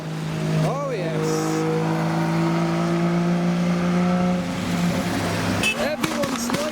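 A Nissan Skyline R34 arriving at a night car meet in pouring rain, its engine droning steadily with a sustained rev and some excited talk nearby, then a sharper burst of revving at the end.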